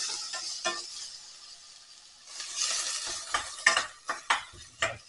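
Garlic, onion and chilli sizzle in hot oil in a pan, with a steady frying hiss and several sharp scraping stirs and clinks from a utensil against the pan near the end.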